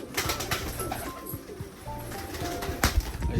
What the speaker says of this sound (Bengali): এগুলো সব ভালো বাজি পায়রা